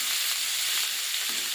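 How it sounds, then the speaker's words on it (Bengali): Onion paste frying in oil for a pabda fish curry gives a brief, even, close hiss of sizzling with no voices. "দিয়ে দিয়েছি পেঁয়াজ বাটা। এই যে পেঁয়াজটা ভালো করে ভাজা ভাজা করে নেব,"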